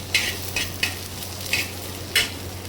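Chana dal roasts in a pan while a spoon stirs it, giving a soft steady dry sizzle under five bright scraping strokes spaced irregularly, close and alone with no voices.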